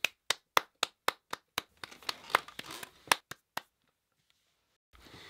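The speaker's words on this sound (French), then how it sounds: "Applaudissez-moi." A single person claps by hand, a quick run of crisp, evenly spaced claps up close that turns looser and more scattered before stopping, leaving near silence.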